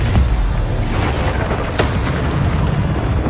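Confringo fire spell exploding in Hogwarts Legacy, a booming blast with crackling bursts over dense game noise, loud and close.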